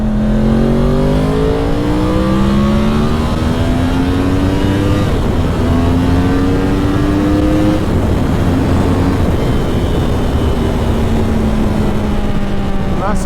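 A 2010 Yamaha R1 motorcycle accelerates hard through several gears, its engine pitch climbing in repeated sweeps with shifts between them. Loud and close throughout, with steady wind roar over the whole ride.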